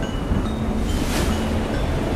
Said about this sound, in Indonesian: Datanglah badai teramat besar menghantam kapal Malin Kundang.